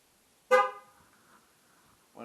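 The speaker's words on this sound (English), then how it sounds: "When it honks, that means this one has been set." A single short car horn toot from a 2012 Chevrolet Malibu during a tire pressure sensor relearn, loud and abrupt then fading quickly, with the start of another honk at the very end.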